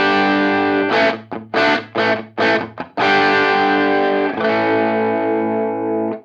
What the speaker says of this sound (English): if I'm playing a big chordal riff with an open A, an open D, and an open G, for instance, and I'm picking it softly, it's going to sound like this